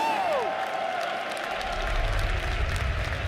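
A large arena crowd at The International 2024 Dota 2 tournament claps and cheers in a dense, sustained roar, with a brief falling electronic tone at the start and a low rumble building underneath.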